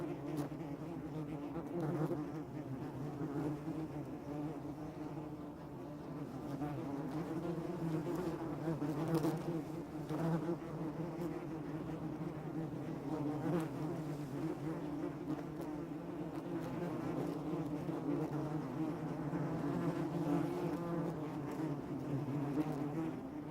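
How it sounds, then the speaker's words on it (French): A steady, low droning hum of about fifteen wasps flying around, continuous and fairly close, with no voices. "le son du vol des guêpes est un peu plus dur, un peu plus"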